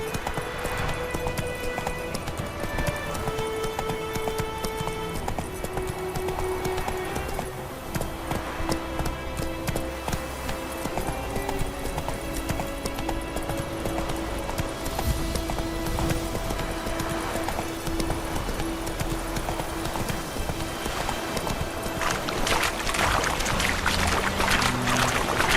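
Roach the horse gallops in The Witcher 3, a steady rhythmic clip-clop of hooves running continuously under a layer of game music and ambient sound.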